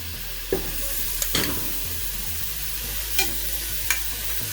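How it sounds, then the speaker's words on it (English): Goat meat for curry sizzles steadily in a hot pot, close by, with a few sharp clicks of a spoon or lid. "I don't know if you could hear that sizzling already."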